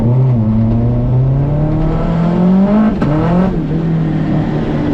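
A DCT-equipped Mazda RX7 launches on a wet winter road with launch control and traction control, its engine loud and close with a steady rising drone, a brief shift-like break near the middle, then climbing again.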